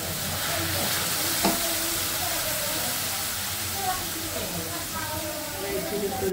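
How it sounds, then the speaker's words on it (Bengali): Ginger-garlic paste and mixed spices frying in a pan, a steady close sizzle and hiss with faint stirring scrapes, running continuously under a speaking voice. "এই যে সব রকম মশলা দিয়ে দিচ্ছি, দিয়ে কষিয়ে নিচ্ছি।"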